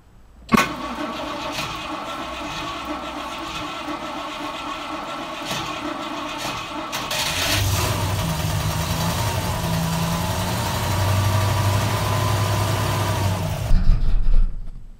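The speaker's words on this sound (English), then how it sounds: "Next thing, I'm going to turn it over without the choke" A 1968 Rover P5B V8 is cranked without choke after a winter layup. A brief whirring crank catches into a loud, steady idle that runs close by with no speech.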